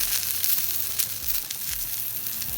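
Browned porcini mushroom steaks sizzle in a hot frying pan after about two minutes on their second side. The frying hiss is steady, loud and close, with faint crackles throughout and no voices.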